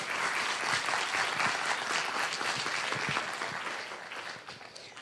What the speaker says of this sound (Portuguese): dessemos uma salva de palmas para o nosso amigo, Dr. Jair.